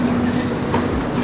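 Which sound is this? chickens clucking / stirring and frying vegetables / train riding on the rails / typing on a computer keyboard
train riding on the rails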